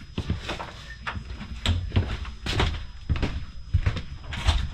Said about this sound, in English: this is the door to that outside storage